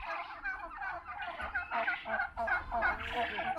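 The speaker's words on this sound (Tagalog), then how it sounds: "Ayan yung mga malalaking turkey" Large turkeys gobble in a continuous, overlapping chorus of warbling calls from several birds at once. The calls come loud and close for the whole clip, with no speech over them.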